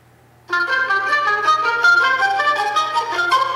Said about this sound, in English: So here are the new text tones.